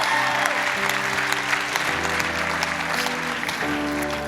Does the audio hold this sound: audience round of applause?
yes